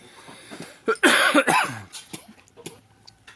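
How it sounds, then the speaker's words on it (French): Someone coughs hard from spicy fumes while a peanut soup cooks in a Thai restaurant, a short burst of several harsh coughs, then a few softer throat sounds and quiet shuffling. "on tousse parce que quand on cuisine, selon qu'est-ce qu'on cuisine, on va avoir le piquant dans le nez"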